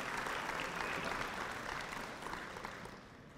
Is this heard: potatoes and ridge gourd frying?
no